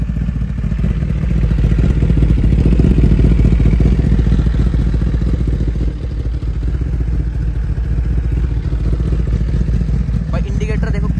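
A Kawasaki ZX-10R sports motorcycle engine runs loud and close, a steady throaty rumble that holds without pause throughout.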